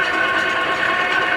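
LeBlond sliding bed engine lathe, 18/36 by 48/72 inch, running at low spindle speed, a steady close mechanical whine with sustained tonal hum and no speech.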